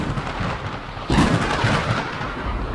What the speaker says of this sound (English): her bitter scream of pain was drowned in the thunder crash